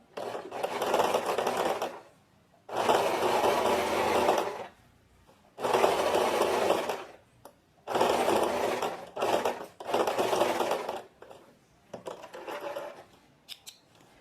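Straight-stitch sewing machine sewing a trouser seam, with loud, close bursts of rapid needle clatter and motor whir lasting two to three seconds each, separated by short pauses, and no speech.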